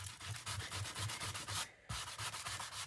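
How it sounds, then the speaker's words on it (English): Rhythmic back-and-forth scraping of a sanding block over a photograph, steady strokes repeating about every quarter second, close and clear, with a brief pause near the end. "I'm going to go in with my sanding block"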